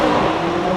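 A McLaren 570S accelerates hard, a loud, steady engine roar filling the brief moment without any break or talking.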